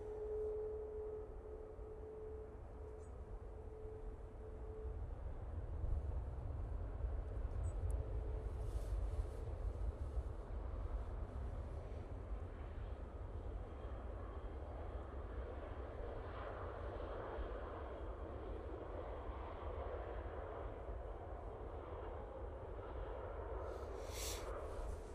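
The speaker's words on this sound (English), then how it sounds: "EasyJet now coming in from Amsterdam." An EasyJet airliner arriving from Amsterdam at Manchester Airport produces a steady, distant low jet rumble that swells slightly and holds throughout, with no voices over it.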